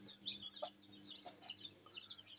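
Soft, high peeping and chirping from chicks in a heated brooder, scattered and continuous at low volume, with faint clicks and a low background hum.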